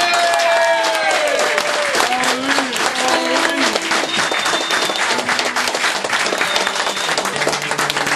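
Audience applauding at a live concert in a New York venue, steady dense clapping with a few cheers, sustained throughout.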